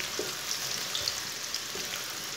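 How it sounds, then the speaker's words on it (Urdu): Chopped onions browning in hot ghee or oil with whole coriander and cumin seeds for sarson ka saag, a steady close-up sizzle and crackle throughout, with no talking. "پیاز کو براؤن کر لیں گے"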